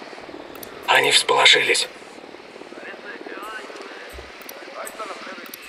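A drone is launched and flies in the video game Ghost Recon Wildlands, a short loud burst of rotor whirr followed by a steady low buzzing hum that carries on under voices talking.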